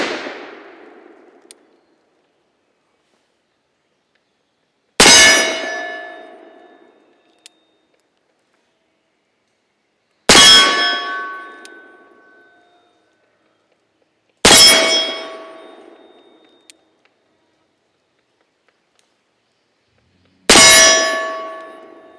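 Bullets strike the metal target Hangin' Hank four times, each a loud, sharp, ringing clang that decays over a few seconds, spaced about five seconds apart, with a fainter click between shots and silence otherwise.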